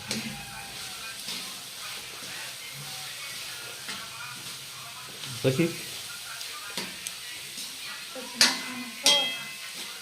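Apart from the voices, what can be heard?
cabbage, onion and chillies frying in tempering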